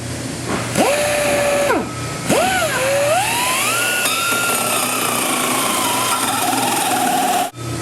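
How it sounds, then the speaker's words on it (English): A 4 5/8 inch (117 mm) hole saw on a power drill cuts through fiberglass: a loud motor whine rises and dips in pitch as the teeth grind through the material, continuous and close, stopping abruptly at the end. "Next hole saw we're going to use is the 4 5/8, or if you're running metric, it's 117 mil."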